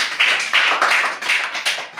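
A group of children claps in a classroom game, several quick bursts of close, bright handclaps in an uneven rhythm with no talk.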